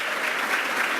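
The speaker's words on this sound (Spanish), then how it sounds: "Un aplauso." Audience applause closing a sustainable development forum, a steady, dense wash of clapping from many hands that holds evenly through the brief moment.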